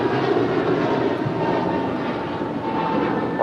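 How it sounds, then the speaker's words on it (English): Loud, close roar of an American Airlines Airbus A321neo jet departing LAX for Honolulu, a broad sustained engine rumble filling the whole moment without voices. "This is American 31 departing to Honolulu. It's an Airbus A321neo."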